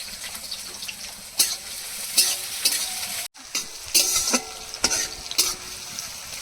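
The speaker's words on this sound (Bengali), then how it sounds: "পেঁয়াজটা ভাজা হয়ে এসেছে" Chopped onion fries in oil tempered with cinnamon, bay leaf, a dried red chilli and whole cumin, sizzling close up while a spoon scrapes and stirs in irregular strokes, with one brief dropout midway.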